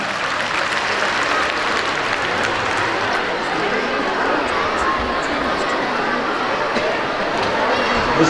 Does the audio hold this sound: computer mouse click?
no